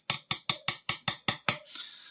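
A pitik piezo lighter igniter tested on basic wiring snaps out eight sharp, evenly spaced clicks, close and crisp, followed by a short fainter metallic ring.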